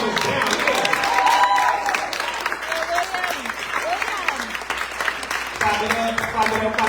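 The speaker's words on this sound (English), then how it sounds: "Clap it up for Foglifter, y'all." A crowd at a book launch event claps and cheers loudly and continuously, with whoops and voices mixed into the dense applause throughout.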